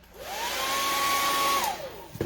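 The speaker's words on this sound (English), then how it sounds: "I'm gonna hit this with the blow dryer" A hair blow dryer runs close by for about two seconds, a steady rushing whir with a rising whine as it spins up and falling as it switches off, with no talk over it.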